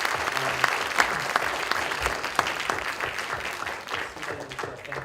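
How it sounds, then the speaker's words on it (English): After a solar storm prediction research presentation, the audience breaks into a hearty round of applause, with crisp individual claps audible in the steady wash of clapping that slowly thins out. "All right, big round of applause."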